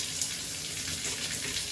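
Water pouring steadily from a bathtub faucet, a constant close hiss and splash with no pauses and nobody speaking.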